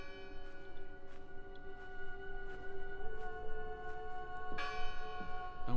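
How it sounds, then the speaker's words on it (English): A church bell tolls in the game Draugen, its long ringing overtones sustaining and layering as repeated strikes sound, moderately loud and resonant with no talk over it. "Bell's still ringing."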